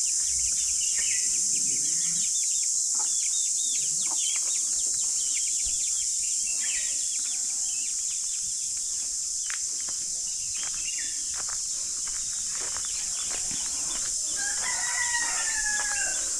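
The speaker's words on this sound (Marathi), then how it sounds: "कोंबड्या बघा निघाल्यात सकाळी सकाळी पिल्लांना घेऊन" In a village at morning, hens and their chicks cluck and cheep close by, and a rooster crows toward the end. Crickets chirp and birds call quietly behind them.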